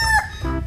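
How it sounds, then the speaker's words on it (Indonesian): A toy rooster crows in a short, bright, electronic-sounding cock-a-doodle-doo, loud and close, with no talking over it. "yang ini ada ayam berkokok."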